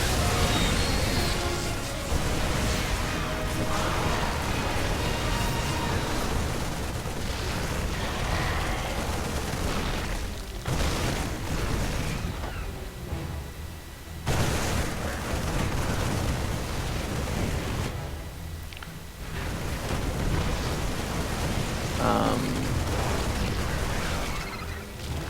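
Siege tanks fire repeatedly in a StarCraft II match, heavy booming blasts and explosions piling up in dense, continuous waves of loud battle noise, with brief lulls between volleys.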